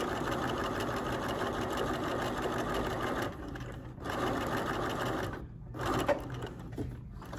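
A sewing machine basting a waistband seam runs in a steady, fast mechanical whir at close range, with brief pauses around three-quarters of the way through before the stitching resumes.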